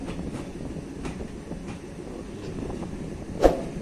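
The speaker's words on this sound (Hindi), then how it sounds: "ये ट्रेन धीरे धीरे रफ्तार पकड़ रही है और एक नंबर प्लेटफॉर्म की तरफ से ये गुजर रही है ट्रेन" Passenger train slowly picking up speed as it pulls away from a railway station platform at night in Bihar, India, a faint continuous rolling rumble with soft wheel clicks and one sharp knock near the end.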